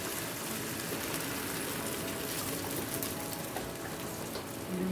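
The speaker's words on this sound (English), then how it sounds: "Go ahead and add your broth." Broth poured into a pan of artichokes, roasted peppers and tomatoes makes a steady, close hissing splash of liquid that runs unbroken for several seconds, with no voices.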